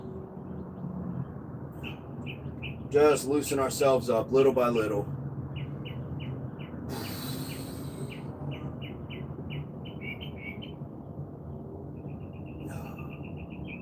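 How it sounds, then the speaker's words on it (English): Birds chirp outdoors in short repeated tweets and trills, scattered across the clip and fairly distant, over a low ambient background with someone speaking briefly. "The birds are chirping."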